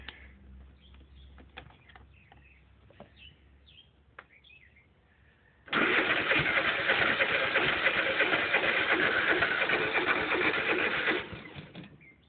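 A discarded machine's small engine sputters and then catches, running loud and steady for several seconds before cutting off, after quiet rustling with faint birdsong in the background.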